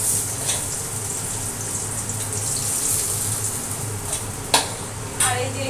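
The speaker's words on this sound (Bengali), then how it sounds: "মাছগুলো একটু ভালো করে ভেজে তুলে নিই" Fish frying in a pan give off a steady, close sizzling hiss with a few sharp clinks and spatters near the end.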